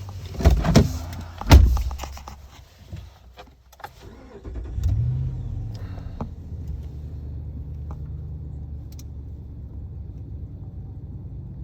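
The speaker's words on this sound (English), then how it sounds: "I'm going to try to shut the truck off and put it back on" A Chrysler truck's engine is switched off and then cranked back on, with loud mechanical clunks and a starter burst in the first two seconds followed by a steady low idle rumble that continues to the end.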